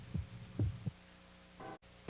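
Heartbeat sound effect in a radio station promo: a few deep, soft low thumps in a lub-dub rhythm, close and muffled, with no voices.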